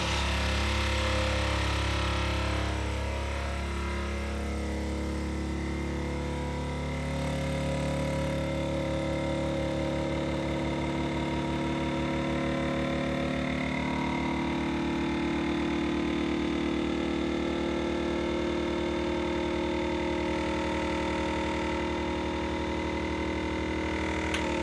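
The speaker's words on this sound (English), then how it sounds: "This thing vibrates as the vacuum's going." A freeze dryer's vacuum pump runs continuously with a loud, steady mechanical drone and vibrating hum, with its pitch shifting gradually as the vacuum builds.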